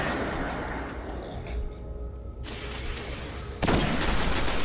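Gunfire from a scoped gun in the video game Destiny, two loud broadband shots about a second apart over continuous game background noise.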